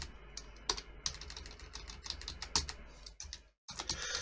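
Rapid keyboard typing up close, a steady patter of clicky keystrokes with a few louder taps and a brief pause near the end.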